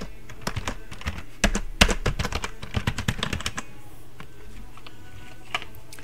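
Someone types text on a computer keyboard: close, crisp key clicks come in quick bursts for about three and a half seconds, then thin out to a few scattered taps.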